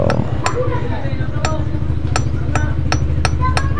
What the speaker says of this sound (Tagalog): kailangan lang natin pukpukin yung dyan sa may pa-curve